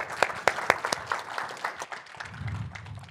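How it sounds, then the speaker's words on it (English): A small group claps for a team after its presentation at a work summit. A few sharp, distinct claps open the round, then it loosens into softer, uneven clapping with some low murmuring near the end. "Let's do a round of applause first."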